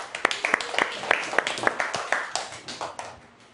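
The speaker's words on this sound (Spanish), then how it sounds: "Un aplauso para esos niños." Children in a classroom clap together in a quick, steady rhythm of distinct sharp claps that gradually fade out, close and moderately loud, with no talk.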